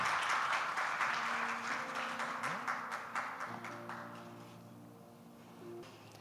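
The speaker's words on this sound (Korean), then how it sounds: "박수해 주시기 바랍니다." Church congregation applauding during a Korean Baptist service, a broad wash of clapping that is loud at first and then thins and fades, with sustained organ or keyboard tones playing beneath it.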